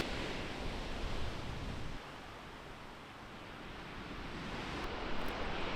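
Ocean waves break against eroded rock formations on a New Zealand coastline, a faint, continuous wash of surf with a soft swell midway and no voices.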